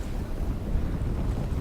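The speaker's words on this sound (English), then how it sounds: "so we won't take damage from this storm. So we can just watch it. Get really windy and dark." Storm wind in the video game Dune: Awakening, a steady rushing roar with low buffeting gusts, continuous and fairly quiet, no voices.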